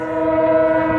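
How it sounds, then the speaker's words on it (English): A passing train sounds its horn in one loud, steady, sustained blast over the low rumble of the rails, close by and with no talk. "here comes a train"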